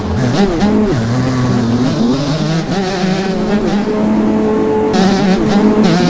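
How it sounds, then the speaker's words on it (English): Motocross bikes race in the MX Bikes video game, with a loud, continuous engine whine that rises and falls as a rider brakes hard, and other bikes roar close by throughout. "I had to slam on my brakes right here so I didn't get taken out"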